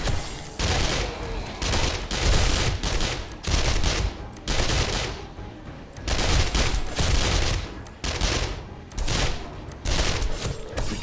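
Rapid bursts of gunfire from the video game 7 Days To Die, armor-piercing rounds fired during a city fight, loud and dense in repeated volleys with brief gaps between them.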